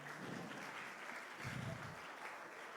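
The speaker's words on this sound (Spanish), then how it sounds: "Denle un fuerte aplauso a la escuela de liderazgo." A church congregation claps for a leadership school, a faint, distant, steady patter of applause with a slight swell midway through.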